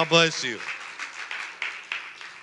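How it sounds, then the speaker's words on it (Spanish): Church congregation applause following a spoken line, a short voice at the start giving way to a modest, somewhat sparse patter of clapping with distinct individual claps standing out. "Dale aplauso al Señor."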